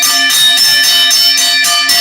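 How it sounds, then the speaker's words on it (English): A bell-ringing sound effect rings loud and close as a fast, repeated metallic chime, with about seven evenly spaced strikes whose bright tones sustain between hits and no voices. "Gotta ring that bell for folks like Camille"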